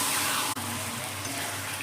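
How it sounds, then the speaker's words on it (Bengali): Yogurt-and-pepper marinated chicken frying in hot oil, a steady close sizzle that runs unbroken apart from one brief dip, with no talk over it. "দেখুন চিকেনটাকে এবার খুব ভালো করে আমাকে তেলের মধ্যে নেড়ে নিচ্ছি"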